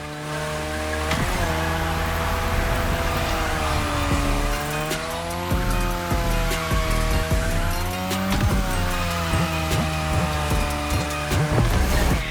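A car drifting around a drift track in Japan, its engine revving loudly and continuously through shifting gears with tire squeal, sustained close and without talk.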